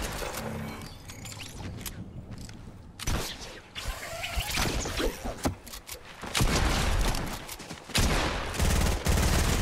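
Rapid bursts of gunfire in a Fortnite match, shotgun blasts mixed with clicking weapon mechanisms, loud and close with short gaps between volleys, no voice over the shots.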